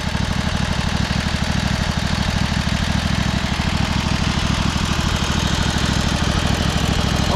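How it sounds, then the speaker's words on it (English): The engine of a 1999 Craftsman lawn tractor runs steadily up close, a loud, even, throbbing idle that holds constant throughout with no other sounds. "the engine's running great"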